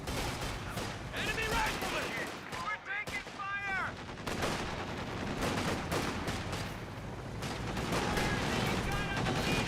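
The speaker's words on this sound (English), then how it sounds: "Looks like the Grenadiers getting some free shots in as well." Grenadier rifle squads firing in Company of Heroes 2, with sharp gunshots cracking amid steady battlefield noise, dense bursts across the whole stretch, mixed with whistling tones and what may be voices.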